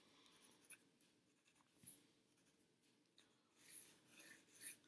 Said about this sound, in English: And I'm going to use my pencil now on the paper